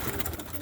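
Roller pigeons cooing in a short, steady low murmur, close and moderately loud with soft repeated coos and no speech.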